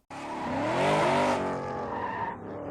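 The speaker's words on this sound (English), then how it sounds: "There's so much fucking drifting in this movie." A car drifts in the 2014 film Need for Speed, its tires letting out one loud, sustained, wavering squeal that holds for about two seconds and then tails off into a fainter skid.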